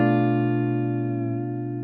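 A single sustained guitar chord from an A harmonic minor progression rings out close and clear, decaying slowly with rich overtones for about two seconds, no voices.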